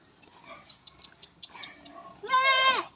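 A goat giving birth, with a kid stuck during delivery, lets out a loud strained bleat near the end, preceded by softer short vocal sounds and faint rustling.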